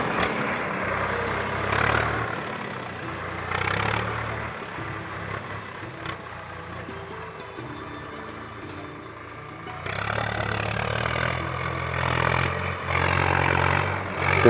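A tractor plowing a field runs with a low, rumbling engine drone that swells and fades as it works, with some clattering of the implement in the open air.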